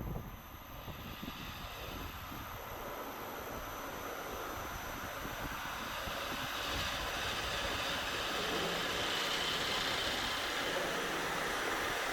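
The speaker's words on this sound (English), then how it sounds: "the noise that it produces when it reaches full speed is absolutely terrifying" A giant Beyblade spinning at full speed gives off a loud, steady roaring whine that keeps building and stays strong throughout, close and continuous like an engine at high revs.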